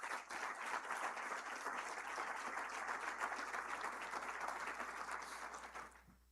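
A church congregation bursts into sustained, loud applause for about six seconds of dense, even clapping, then stops abruptly near the end.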